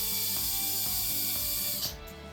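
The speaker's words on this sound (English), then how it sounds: "Run the motor for several seconds to properly disperse the oil." An Ultrapro Tx Air dental handpiece motor runs steadily after oiling, giving a continuous bright whir with faint periodic clicks, then winds down abruptly near the end.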